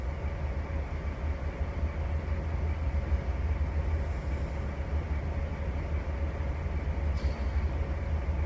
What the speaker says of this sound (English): So here comes Graham pulling his unit coal train.